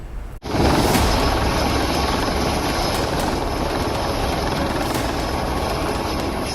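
Indian Coast Guard Advanced Light Helicopter Mk3 flying overhead, a loud, sustained rotor and turbine drone with a steady whine that starts abruptly after a short gap and holds evenly to the end.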